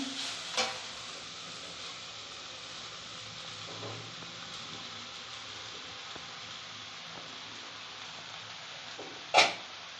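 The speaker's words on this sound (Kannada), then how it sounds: "ಇವಾಗ ಅನ್ನ ಹಾಕ್ಬಿಟ್ಟು ಉರಿ ಜಾಸ್ತಿ ಇಟ್ಕೊಂಡು ಚೆನ್ನಾಗಿ ಎಲ್ಲನೂ ಮಿಕ್ಸ್ ಮಾಡಬೇಕು" Cooked rice stir-fries in a hot pan for vegetable fried rice, a steady broad sizzle with soft scraping of the spatula and a sharp clack near the end, no talking.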